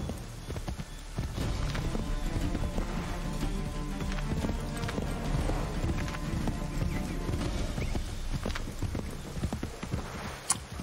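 Horse hooves clip-clop steadily in the Assassin's Creed 3 video game, a continuous trotting rhythm that sits loud and up front amid busy game ambience, with brief whinny-like calls mixed in.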